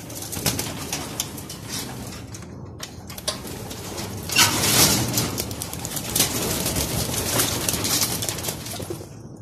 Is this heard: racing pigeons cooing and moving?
yes